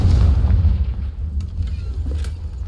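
Confringo blasting spell exploding in Hogwarts Legacy, a loud deep booming rumble that starts strong and fades into a lingering low roar.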